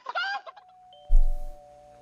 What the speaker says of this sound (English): I think I've got a chicken sound effect around here somewhere.